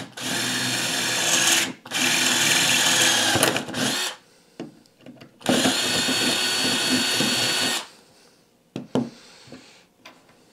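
Power drill boring out a threaded part on a Holley 4150 carburetor, two long loud whining bursts of about three seconds each separated by a pause, then shorter faint clicks and handling noises near the end, no talk.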